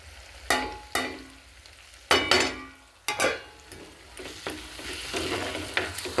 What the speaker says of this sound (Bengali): এগুলো দিয়ে দিচ্ছি এর সাথে।